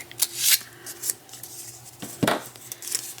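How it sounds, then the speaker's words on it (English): Scissors snip through craft paper just past a score line for a paper rosette seashell, giving a few close, crisp separate cuts with short pauses between them and no talking. "I'm gonna cut this a little past the score line and then miter it."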